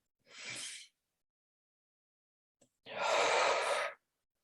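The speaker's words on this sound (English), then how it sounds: "I like to take a few deep breaths." Two slow, deep breaths taken during a calm guided practice: a soft, airy inhale, a pause of near silence, then a longer, fuller breathy exhale, close and quiet with no talking.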